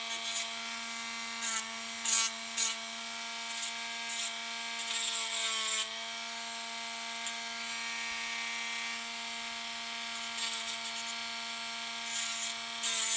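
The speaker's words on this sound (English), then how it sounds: "We want to definitely Dremel this out some more." A Dremel rotary tool grinds away hardened super glue during a toy repair, its motor holding a steady high whine throughout while intermittent scratchy bursts of grinding contact rise and fall over it.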